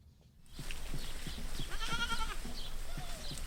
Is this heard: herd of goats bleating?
yes